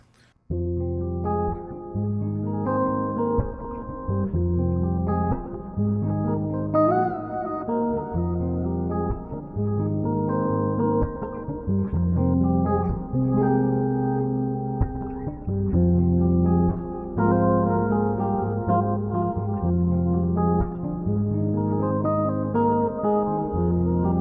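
A sustained bass riff through a whammy pitch effect in an effects loop plays on without pause, its pitch bending and shifting in a thick, distorted tone.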